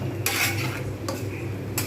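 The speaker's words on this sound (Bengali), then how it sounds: "নাড়িয়ে দিয়ে" A spoon scrapes and clinks around a pot of mixed-lentil dal at a simmer, three distinct stirring strokes standing out over a low bubbling background, with no one speaking.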